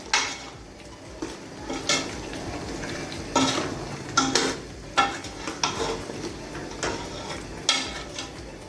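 Spices for beef korma, with korma masala, achar gosht masala and dried plums, fried and stirred in a metal pot; a spoon scrapes and clanks against the pot in irregular bursts over a soft sizzle.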